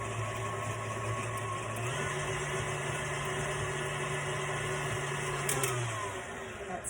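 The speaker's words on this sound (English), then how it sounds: "I'm going to put this in my stand mixer, and I'm going to mix it up just a little bit" A stand mixer whirs steadily through bananas, flaxseed, almond milk and sugar, a constant close motor hum that runs about six seconds and then winds down.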